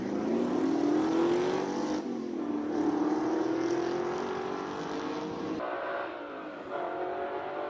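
A 5-litre V8 Piranha engine in a classic South African race car at a Cape Town speed event, droning loud and steady as it rises in pitch through the gears, then easing off toward the end.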